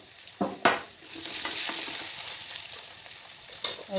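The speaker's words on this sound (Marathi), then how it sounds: "त्यामध्ये मी आलं लसूण पेस्ट घातलेली आहे" Ginger garlic paste fries in a pan for a Vidarbha-style fenugreek amti, a moderate sizzle under a few sharp stirring scrapes and taps, heard close with no talk.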